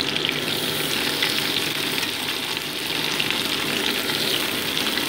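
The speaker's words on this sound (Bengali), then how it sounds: "এবার আমি কেটে রাখা পেঁয়াজ কুচিগুলো এর মধ্যে অ্যাড করে দিচ্ছি।" Chopped onions sizzle and fry in a pan with already-fried potato pieces for a soya curry, a steady, close, hissing crackle that runs the whole time with no talk.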